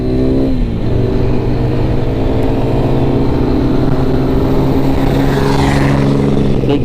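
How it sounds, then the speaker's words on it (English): A big diesel truck passes close by a rider on a Lifan KPR200 motorcycle, its rushing roar swelling toward the end over the bike's steady, buzzing engine drone. "big diesel truck passing me"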